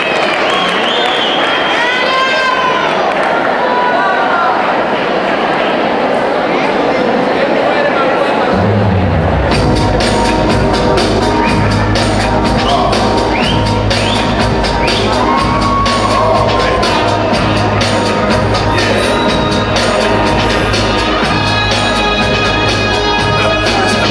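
Crowd at an outdoor dance festival cheering and applauding, first a mixed din of voices and shouts, then a denser, louder roar with clapping and bangs that runs on to the end.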